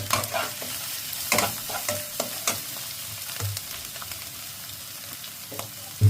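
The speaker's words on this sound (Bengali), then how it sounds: "এরপর আমি মশলাগুলো এক এক করে সব দিয়ে দিলাম" Spices for a turmeric-free rohu fish korma fry and sizzle in a pan while being stirred, with repeated sharp spoon scrapes and clacks over a steady hiss, close and moderately loud.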